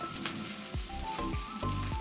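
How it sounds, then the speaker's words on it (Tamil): Mustard seeds, garlic and fresh curry leaves fry in hot oil with a steady sizzle broken by sharp pops and crackles, close and continuous without speech. "இது கூடவே கொஞ்சமாக ஃப்ரெஷ் கருவேப்பிலை போட்டு இந்த ரெண்டோட அரோமாவும் ஆயிலில் நல்லா இன்ஃப்யூஸ் ஆகிற மாதிரி வறுத்துக்கோங்க"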